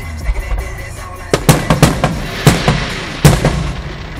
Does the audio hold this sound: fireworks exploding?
yes